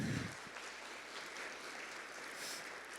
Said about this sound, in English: Can we please do another round of applause for our great panel?